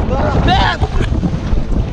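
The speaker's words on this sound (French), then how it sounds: "il y a vraiment du vent par exemple" Strong wind buffets a catamaran out on the water, roaring steadily across the microphone, while a voice shouts a brief exclamation early on.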